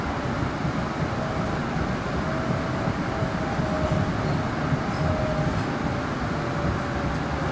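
An MBTA Green Line B Branch light rail train runs on its route toward Boston College, producing a steady, loud interior rumble and rattle with a faint high whine.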